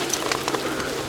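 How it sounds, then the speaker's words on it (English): Pigeons in Piazza San Marco, Venice, coo softly while being fed, a brief murmur of bird calls close by against open square ambience. "Jen feeding the birds in Venice"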